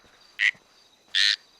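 Frogs croak at night in the wilderness in GTA 5: two short, bright croaks about a second apart, loud and close against a quiet background.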